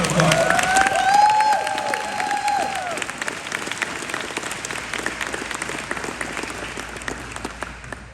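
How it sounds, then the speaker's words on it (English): An audience at a sports media hall of fame ceremony applauds an award recipient, with cheers and whoops rising early over sustained clapping that gradually thins and becomes more scattered. "Let's give him a round of applause."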